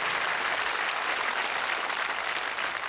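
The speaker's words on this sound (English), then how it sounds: "Give him a nice warm round of applause." A studio audience at a 1981 darts game show applauds warmly, a dense, steady wash of clapping that fills the whole stretch at full volume.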